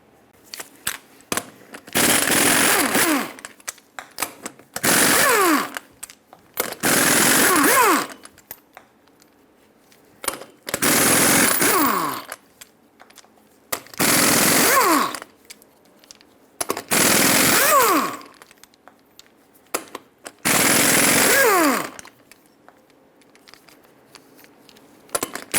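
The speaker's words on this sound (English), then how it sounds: "Now use a 22mm socket to remove all 8 lug nuts and then pull the wheel off." Lug nuts on a Ford E-350 Super Duty rear wheel are spun off with a 22mm socket on a power tool, about six loud buzzing bursts of one to two seconds each, separated by short pauses with faint clinks.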